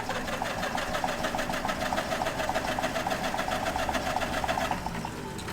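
A 1956 Caterpillar D6 9U bulldozer's pony motor cranks steadily without catching, a close, loud, rapid mechanical chatter that runs unbroken for about five seconds before easing slightly at the end.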